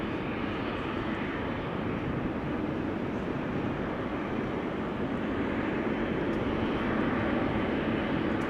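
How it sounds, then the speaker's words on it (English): A KLM Boeing 737-800 jet takes off at Amsterdam Schiphol Airport, its engines giving a continuous broad roar that stays loud and steady throughout, heard from a distance with no voices. "That is KLM flight 1919 to Zurich, 737-800."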